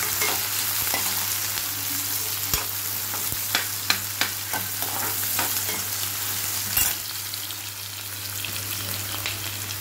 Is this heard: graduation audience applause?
no